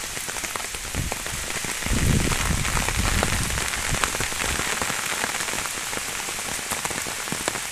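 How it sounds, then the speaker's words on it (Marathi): Steady rain pours onto leaves and the ground in a Konkan forest during the monsoon, a dense close patter that swells briefly as gusts pass, with no voices. "वारा आणि पाऊस दोन्ही आहे त्याच्यामुळे थोडीशी काळजी घ्यावी लागेल"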